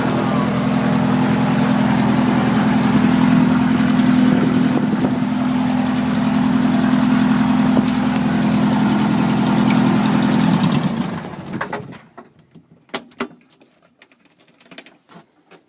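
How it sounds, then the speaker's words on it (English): A Revmaster aircraft engine fitted with a Culver propeller idles right after a cold start, a loud, steady, rumbling drone for about eleven seconds. It then cuts off, leaving a few faint clicks and ticks. "Again, that was a cold engine start."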